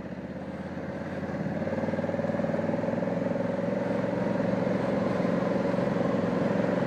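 A 2020 Honda Africa Twin motorcycle rides through muddy green lanes, its engine droning steadily and close, with a throbbing rumble that swells slightly as it pulls in second gear.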